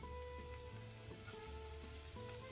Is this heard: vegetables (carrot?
yes